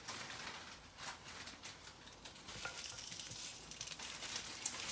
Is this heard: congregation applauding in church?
no